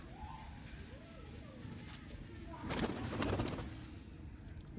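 Pigeons, a paired male and female hen in a fancier's loft, with soft repeated throaty coos close by over a low background murmur, plus a brief rustle midway.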